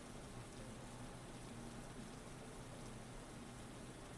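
Steady rain falls in a dense, even hiss with no breaks, fairly loud and close throughout, with no voices over it.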